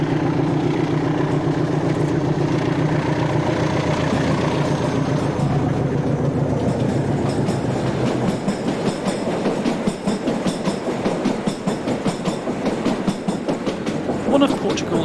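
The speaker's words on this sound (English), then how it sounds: "one of Barreiro's 1400s storms past Barreiro Terra Yard with a train for Setúbal." A Portuguese 1400 class diesel locomotive storms past Barreiro Terra Yard hauling a train for Setúbal, its loud engine roar building and giving way to rhythmic wheel clatter as the carriages rush by close.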